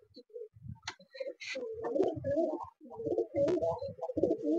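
White Giribaz pigeons coo in a steady series of throaty, rolling calls, close and fairly loud, with someone speaking softly alongside them in a farm loft.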